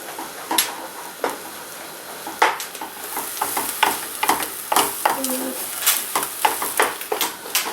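A spoon stirs eggs frying in a pan, with a quiet sizzle under repeated close scraping strokes and clinks at an uneven rhythm.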